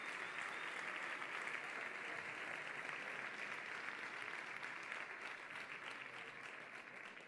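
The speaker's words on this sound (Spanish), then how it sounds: "Ahora se aplaude." Sustained audience applause filling a municipal sports hall at a sports gala in Béjar, steady and dense throughout, easing slightly toward the end.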